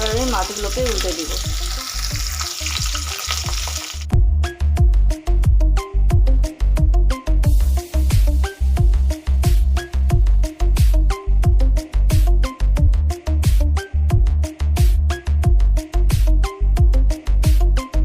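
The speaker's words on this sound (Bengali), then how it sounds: "আমি মাছটা ভেজে নিচ্ছি।" Katla fish fries in hot mustard oil in a pan, a dense sizzle that starts smooth and then turns into a rapid, regular run of crackling pops close by, with no talking.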